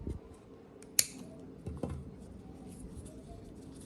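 Scissors snip through crochet yarn at close range, one sharp cut followed by a softer second snip in an otherwise quiet room.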